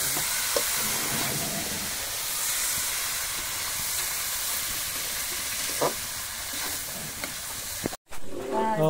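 Malvani dried-fish tikla with kokum fries in a pan over a wood-fired clay stove, giving a continuous loud hiss and sizzle with a few soft stirring knocks and a brief cutoff near the end.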